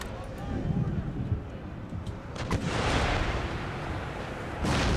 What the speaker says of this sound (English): There goes that howitzer fire.